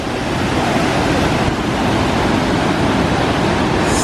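Water rushes loudly and continuously along a stream feeding Niagara Falls in New York, a dense, steady roar with no voices.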